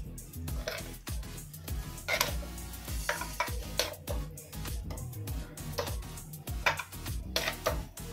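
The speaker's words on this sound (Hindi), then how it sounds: "अब इसे भी अच्छी तरह से मैं मिक्स कर दूंगी रायते में।" A spoon scrapes and clinks rhythmically against a bowl as spices are stirred into raita, with faint kitchen noise around it.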